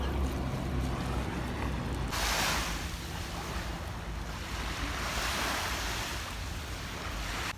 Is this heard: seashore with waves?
yes